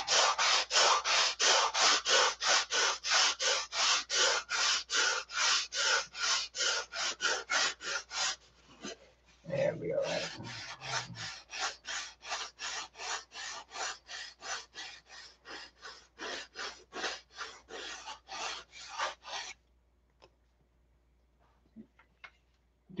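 Rapid rhythmic rasping of sandpaper drawn back and forth along a lost-foam model airplane wing, close and steady in quick strokes, with a brief pause and a thud partway through before the strokes resume and then stop.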